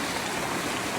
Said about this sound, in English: we're about to cross this creek over here.